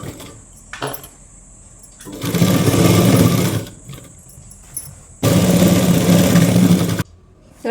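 A sewing machine stitches a sleeve onto a nighty in two loud, sustained bursts of rapid running, separated by quieter pauses with a faint steady whine; no voices.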